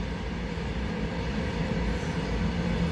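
A kitchen mixer grinder runs continuously, grinding the remaining gulab jamun batter with a dense, steady rumbling drone that holds level throughout.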